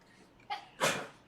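A person sneezes once, close and moderately loud, after a small intake of breath, in a quiet room with no talk.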